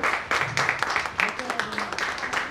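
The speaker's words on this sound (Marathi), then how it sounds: "जोरदार टाळ्या झाल्या पाहिजे" An audience claps to welcome a speaker at a Guru Purnima program for a karaoke class, a brief burst of scattered, uneven clapping.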